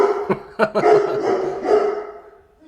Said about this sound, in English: Go live or do a video and your dogs are barking.